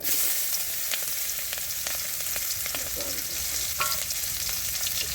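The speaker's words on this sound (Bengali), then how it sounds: "পেঁয়াজ ভাজা হয়ে গেছে" Chopped onion sizzles in oil with cumin, a constant bright crackle, with a few clinks and scrapes of a spatula breaking through.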